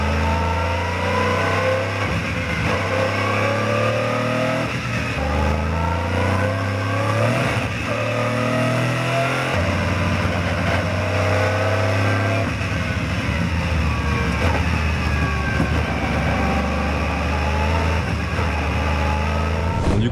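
An Aston Martin GT3 race car drives the hilly, technical Portimão circuit in wet conditions, its engine loud and close, revving up through gears with stepped pitch rises and drops over the lap.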